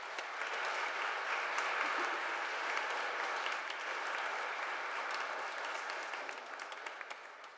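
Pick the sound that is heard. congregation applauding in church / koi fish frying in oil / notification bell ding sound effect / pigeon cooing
congregation applauding in church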